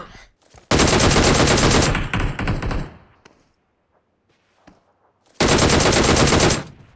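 Automatic weapon fire in the PUBG Mobile video game comes as two loud, sustained bursts, with a quiet pause and a few faint knocks between them.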